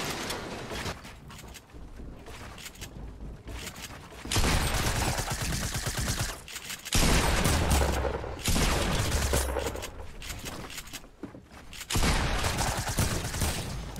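Rapid gunfire from weapons in the Fortnite video game, dense and loud bursts running almost continuously with short lulls between heavy volleys, no speech heard.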